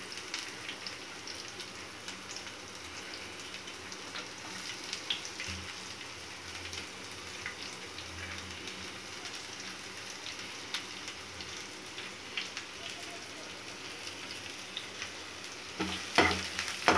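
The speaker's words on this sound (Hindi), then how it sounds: "प्याज को हल्का गुलाबी रंग आने तक भूनेंगे।" Chopped onions fry and get stirred in a pan while cooking upma, a steady close sizzle running throughout with occasional scraping of the spoon, and no talking.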